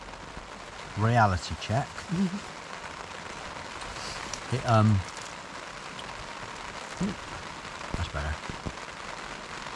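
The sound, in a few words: rain falling at Lyme Regis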